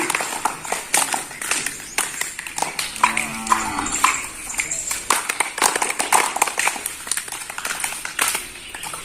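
A group claps together in a busy, uneven patter of many hands, with voices and scattered calls mixed in throughout.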